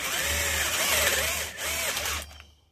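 A power drill bores a hole into wood for a bow rack, a close, loud whirring that rises and dips as the bit bites in, then winds down and stops.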